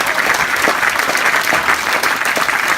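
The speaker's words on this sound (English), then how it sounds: "please give Dan Keeley a massive round of applause" A festival audience at the Basecamp stage of the 2017 Kendal Mountain Festival applauds speaker Dan Keeley, a loud, continuous wash of clapping that holds steady throughout.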